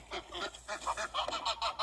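Geese honk in a quick run of nasal calls, about a dozen close, moderately loud honks in an uneven burst, with no speech.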